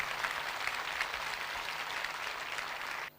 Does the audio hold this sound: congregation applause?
yes